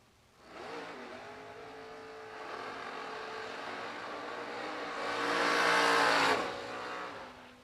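Drag race cars including a Chevy Camaro launch at a drag strip, engines roaring from a distance and swelling into a loud rising rev as they pass, then fading.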